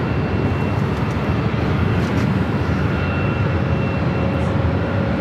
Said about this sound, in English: This is Virgin Atlantic Flight 142. They fly heading back to London Heathrow. This A350